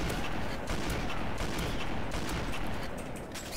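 Rapid sniper rifle fire in Call of Duty MW2, dense and continuous with sharp repeated cracks layered over constant battle noise, loud and close, with no talking.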